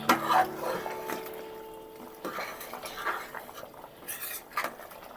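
Goat head curry stirred in a pot after garam masala and coriander go in, with close clinks and scrapes of a spoon against metal, a ringing tap early on and soft wet squelches, no voices.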